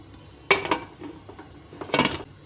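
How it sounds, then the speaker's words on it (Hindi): Metal lid of a pressure cooker being fitted and closed over nihari, giving a sharp clank, some softer rattling, then a second cluster of metallic knocks and scrapes, close and fairly loud. "अब मैं कुकर को बंद कर दूंगी"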